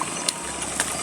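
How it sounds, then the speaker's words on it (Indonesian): A tractor engine works a rice field in a Sundanese village, giving a steady low drone at a moderate distance over a short stretch, with faint outdoor noise around it. "sebelah sana itu lagi ada traktor lagi"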